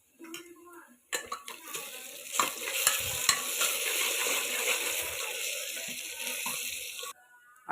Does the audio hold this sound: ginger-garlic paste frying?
yes